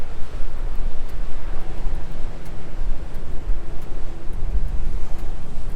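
Strong coastal wind at the Halona Blowhole on Oahu, Hawaii, gusting and buffeting the microphone in a continuous rough rumble, loud and close with no speech.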